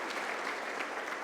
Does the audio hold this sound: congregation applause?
yes